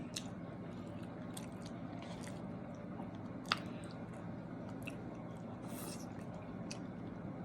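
Food with celery being chewed during a mukbang, soft wet chewing and squishing close to the mic, with a couple of sharper crunchy bites, no talking.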